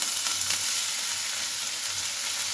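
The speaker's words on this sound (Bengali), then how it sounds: "তেলটা বেশ গরম হয়ে গেছে, পেঁয়াজটা এর মধ্যে দিয়ে দিলাম" Chopped onions hit hot oil in a pan for a carrot chicken dish, giving a steady, close, bright sizzle and crackle that holds evenly throughout with no talking.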